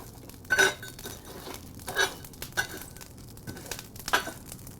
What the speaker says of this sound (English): what I'm going to do now is just rake some of these coals underneath my cooking grate